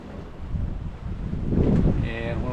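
Wind gusts roar across a microphone aboard a sailboat on Lake Huron, with a steady low rumble and someone speaking over it.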